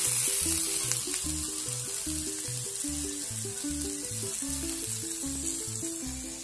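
Olives sizzle in a frying pan while cooking for a corned tuna pasta, a steady bright crackling hiss running throughout with a faint stirring texture underneath and no talking.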